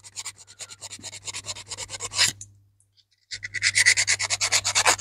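Silver jewelry set with turquoise being polished by hand, giving a rhythmic series of quick scratchy rubbing strokes, then a brief silence, then a louder, faster run of strokes, close up with no talk.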